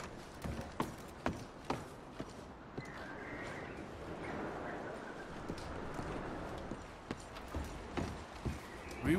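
Horse hooves clip-clop in Red Dead Redemption 2, a scattering of light, sharp hoof taps over a steady murmur of background game ambience, with no clear voices.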